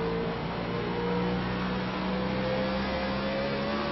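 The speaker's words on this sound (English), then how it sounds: "you can literally hear the wheel spin coming off these cars" Race cars powering off a corner at Dover with wheel spin, a steady loud engine drone with a sustained whine and rising tone throughout, no talk over it.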